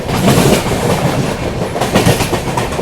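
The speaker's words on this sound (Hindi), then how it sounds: "फिलहाल तो गाड़ी यहाँ पे चल रही बढ़िया है यहाँ पे अपनी।" The Mumbai CSMT to Nagpur Sewagram superfast express runs at speed, a loud continuous rumble of wheels on rails with rhythmic clickety-clack from inside the coach.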